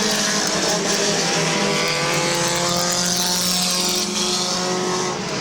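Compact race cars roaring around Midvale Speedway, engines droning loud and continuous with shifting pitch as the pack races close together.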